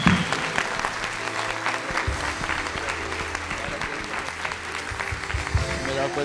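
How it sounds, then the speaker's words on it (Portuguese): A church congregation bursts into dense, sustained applause that fills the room for several seconds, with voices and shouts mixed through the clapping. "Você pode dar uma salva de palmas."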